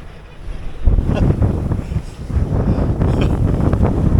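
Strong wind buffets the microphone aboard a solo sailboat at sea, a loud, gusty rumble with whooshing swells and water noise that builds after the first second and stays constant.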